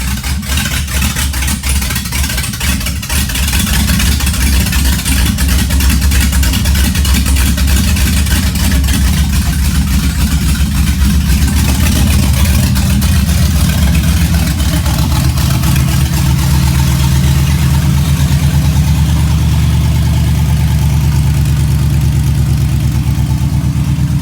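An LS-swapped 1986 Chevrolet El Camino V8 fires up and settles into a steady, loud, close idle with a deep rumble that holds for the whole stretch.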